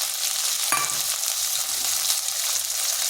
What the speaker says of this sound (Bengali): এই মশলাটা বেশ কিছুক্ষণ সময় ধরে ভেজে নিতে হবে।